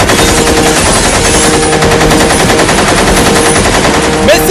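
Sustained burst of rapid machine-gun fire, loud and continuous for several seconds, used as a sound effect in a LEGO Batman stop-motion brickfilm.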